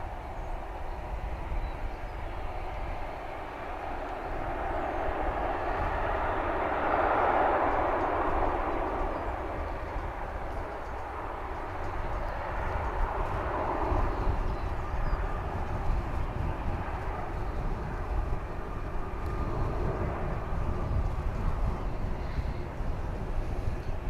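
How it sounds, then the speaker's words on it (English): A jet airliner rolling down the runway at DFW Airport on a cold, windy morning, a broad distant roar swelling and fading over a long span, with wind rumble on the microphone and no talk. "I think this plane is finally rolling."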